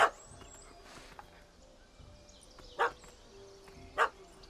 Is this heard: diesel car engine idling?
no